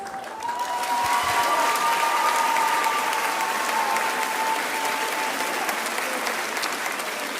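An audience at the Mister Supranational 2025 final show applauds the continental ambassadors with steady, sustained clapping that fills the hall for several seconds, alone without talk.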